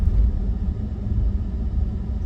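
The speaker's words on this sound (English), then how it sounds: "It's windy today" Low, blustery rumble of wind buffeting close by, steady and loud with gusty swells, no voices.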